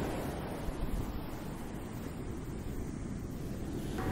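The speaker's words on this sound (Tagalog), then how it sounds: "Naririnig mo na lang yung mga alon ng dagat." Steady broadband wash of ocean surf rolling continuously at a beach in Lian, Batangas, moderately quiet, with some wind-like rumble and no voices.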